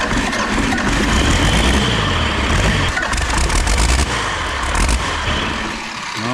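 A 1975 Dodge D600 truck engine cranks over and over, struggling to start, with a loud, dense mechanical churning that runs almost the whole time and dips slightly near the end.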